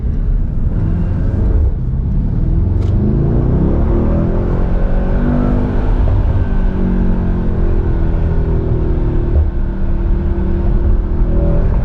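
Mercedes-AMG GT 63 S 4-door Coupe with its 630 hp engine roaring loudly and continuously while accelerating, the note rising and falling through gear changes with road rumble underneath and no talk.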